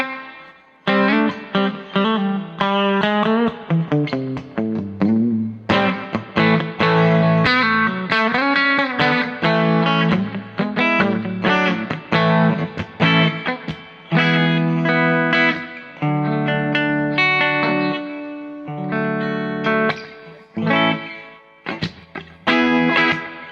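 An electric guitar played through a cheap delay pedal, picked notes and chords ringing out with echoing repeats trailing behind them, loud and continuous throughout.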